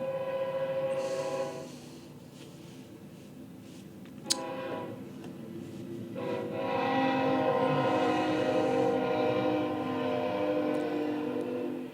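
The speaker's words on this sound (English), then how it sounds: "Did you guys know that we have trains here?" A passing train rumbles steadily throughout, with sustained horn-like tones that fade midway and then return stronger.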